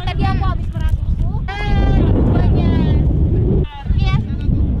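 Sheep bleating on a hillside farm in New Zealand, several wavering bleats close by, mixed with wind noise and people talking.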